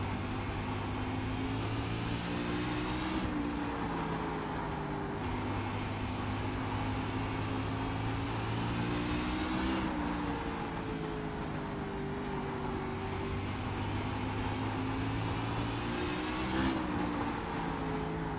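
Race car in iRacing, a pavement sprint car at Oxford, drives a lap with a steady, loud engine drone that rises and falls in pitch through the corners, continuous throughout with no talking.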